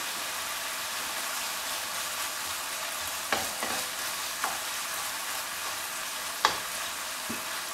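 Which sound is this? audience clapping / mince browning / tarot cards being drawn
mince browning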